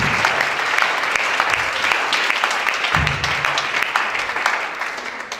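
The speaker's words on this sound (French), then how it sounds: "Acclamons pour ce merveilleux témoignage." A church congregation applauds continuously and loudly, a dense wash of many hands clapping at close range, with a few voices faintly mixed in.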